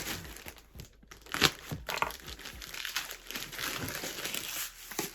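Plastic packaging from a lost mail parcel crinkles and rustles as it is opened by hand, with close, continuous crumpling and a few sharper tearing crackles.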